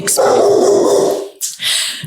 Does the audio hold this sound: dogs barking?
yes